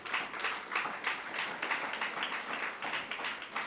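A crowd applauds steadily, dense clapping sustained evenly for a few seconds with no speech over it.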